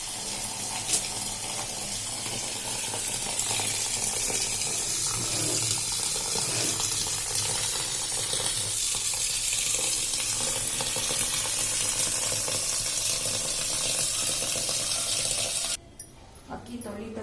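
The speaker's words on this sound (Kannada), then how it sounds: "ಅಕ್ಕಿ ತೊಳಿತಾ ಇದ್ದೀನಿ, ಚೆನ್ನಾಗಿ ತೊಳಿಬೇಕು." Rice being washed under a running tap in a sink, a steady broad wash of flowing water and swishing grains lasting throughout, cutting off briefly near the end.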